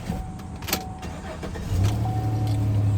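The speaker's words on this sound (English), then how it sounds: "Start the engine up." A 2021 Chevy Silverado 1500 Regular Cab WT work truck's engine starts from inside the cab, a brief starter whir settling into a low, steady idle hum.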